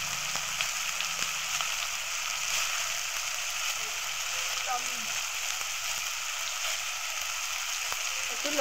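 Green chili and turmeric powder frying in hot oil for a fish curry, giving a steady, even sizzle that hisses on at moderate loudness throughout, with no voices.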